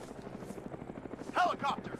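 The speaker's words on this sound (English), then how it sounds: "I've got a helicopter inbound" A helicopter approaching in a military combat video game, a low rhythmic rotor thump running steadily beneath the action, with a brief burst of voice or radio chatter near the end.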